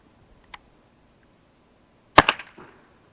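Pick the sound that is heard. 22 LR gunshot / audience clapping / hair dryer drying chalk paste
22 LR gunshot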